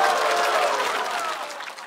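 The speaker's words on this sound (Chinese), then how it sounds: "希望大家把掌声送给他" Dense, sustained applause from a large studio audience at a comedy roast show, loud and even, tapering slightly toward the end.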